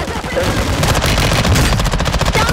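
Rapid automatic gunfire in a multiplayer shooter video game, loud and sustained, with bursts of shots rattling almost continuously from start to end.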